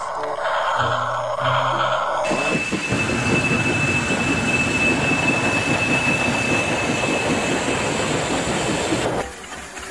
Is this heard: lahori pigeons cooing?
no